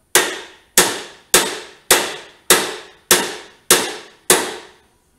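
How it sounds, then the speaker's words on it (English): A rusty bolt on a 1972 Honda CT70 takes eight sharp, evenly spaced hammer blows. Each strike rings briefly and decays before the next, close and loud, with no talking. "that bolt's getting a hell of a beat"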